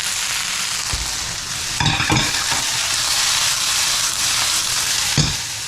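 Chopped onion goes into cauliflower already sizzling in a pan, giving a steady close-up frying hiss with a few brief clattering stirs.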